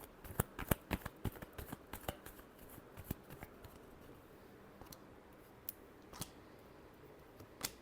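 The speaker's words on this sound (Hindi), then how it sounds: "टॉरस के लिए लास्ट शफल" Tarot cards are shuffled in a quiet room, giving a run of soft, crisp riffling snaps and clicks that thin out into occasional isolated taps.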